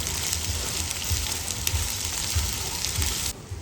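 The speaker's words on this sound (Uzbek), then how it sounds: "Mana endi qovurish payti keldi." Onions sizzle in a pan of hot butter with rosemary, a steady close crackle and hiss with soft low bubbling underneath that cuts off abruptly near the end.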